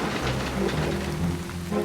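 Heavy rain pelts down at an Iron Age hill fort dig site, a loud, steady, dense hiss of falling water with a low rumbling undertone running without a break.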